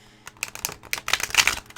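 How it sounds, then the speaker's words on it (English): Tarot card deck being shuffled by hand, a quick run of crisp, riffling card clicks and flutters building in a close, fairly quiet burst. "you can shuffle it"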